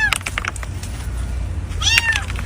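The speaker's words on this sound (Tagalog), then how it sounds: "isang pusa rin ang matagumpay na na-rescue ng mga otoridad" A cat pulled alive from earthquake rubble meows twice, short strained cries heard close and clear over a busy background of rescue-site noise.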